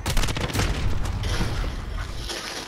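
Cluster-strike rockets exploding around the player in Modern Warfare's Shipment map, a dense close barrage of booms and crackling blasts that rolls on for several seconds before easing slightly.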